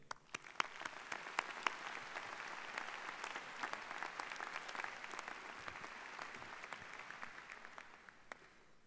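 An indoor audience at a College of Education ceremony claps to welcome a dean, a dense, steady wash of applause with sharp individual claps standing out, fading slightly near the end.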